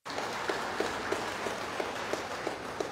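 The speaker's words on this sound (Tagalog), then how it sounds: "Palakpak po tayo ulit." An audience claps at the launch of a Malasakit Center. The applause is faint and continuous, with a soft wash of many hands and a few louder claps.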